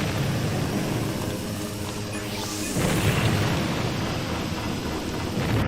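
Booming explosions erupt during a video game race, with a rushing sweep and a heavy blast midway over a constant rumbling, noisy game soundscape.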